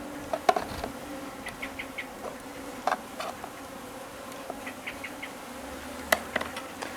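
Honeybees buzzing around an open hive during an inspection of an urban colony, a steady faint drone with individual bees passing close in short louder bursts, no talking.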